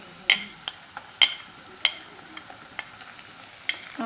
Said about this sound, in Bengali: এখন আমি এর মাঝে আদা রসুনের পেস্টটা দিয়ে দিব